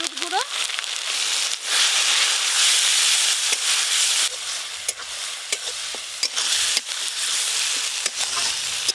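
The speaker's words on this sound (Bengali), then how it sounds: "আদা রসুন আর পেঁয়াজ একসঙ্গে প্রথমে ভালো করে ভাজা ভাজা করে নিয়েছি।" Ginger, garlic and onion paste fries in mustard oil with whole garam masala and turmeric in a kadai. It gives a loud, continuous sizzle and crackle, broken by scraping stirs of the spoon against the pan.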